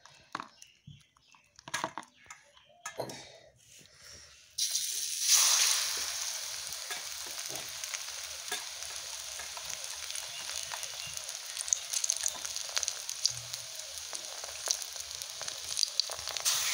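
Pumpkin flower fritters fry in hot oil in a wok, a dense steady sizzle that starts suddenly after a few quieter clinks and handling sounds and then carries on evenly, close and moderately loud.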